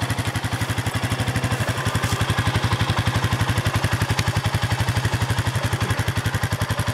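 A 2004 Honda Foreman Rubicon 500 4x4 ATV engine idles steadily, an even, rapid thumping pulse that stays smooth and constant at close range with no voices.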